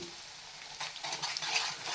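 Amla (Indian gooseberries) roast in a pan for pickle with a steady close sizzle and soft stirring scrapes that build slightly louder over two seconds, with no talk.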